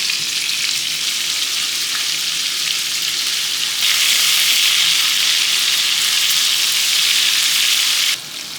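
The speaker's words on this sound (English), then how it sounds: "I think this meat has now been fried" Meat for Texas chili fries steadily in a pan, a dense, loud sizzle running throughout that swells louder about halfway and drops slightly near the end, with no talking.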